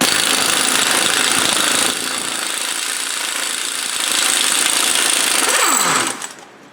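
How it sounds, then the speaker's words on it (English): An impact wrench or similar power tool works loose a car axle nut on a Buick Enclave, a loud continuous rattling hammer that dips briefly in the middle, then winds down with a falling whine near the end. "We're gonna pull the axle nut off."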